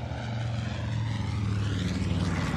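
A bomber aircraft makes its first low pass at the SUN 'n FUN air show, its propeller engines droning loudly and continuously with a steady throbbing hum.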